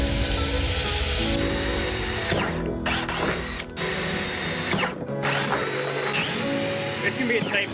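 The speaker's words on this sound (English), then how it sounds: "We still have to drill the holes all the way through so that we can attach this." A power drill cuts holes through a plastic windshield washer reservoir, a close, loud grinding whine that stops and restarts several times with short pauses between bursts.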